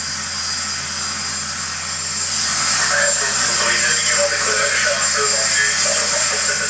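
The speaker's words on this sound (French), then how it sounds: "les 8 pilotes de chasse qui la composent décollent pour leur premier entraînement de la journée" Patrouille de France fighter jets taking off in Marseille, a loud, steady, broad jet roar that swells slightly and holds for several seconds, nearby and dominant.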